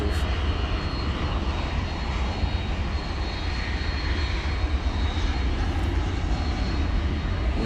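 An MD-11 jet taxiing at DFW Airport at night, a steady low engine roar and whine holding evenly throughout, moderately distant and continuous.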